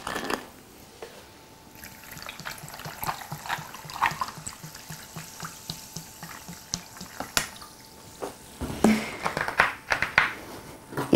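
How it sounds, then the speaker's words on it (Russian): Sparkling water poured over ice into homemade lemonade, a steady close trickle and splash with fizzing and occasional ice clinks that grow louder toward the end. "И заливаем газированной водой."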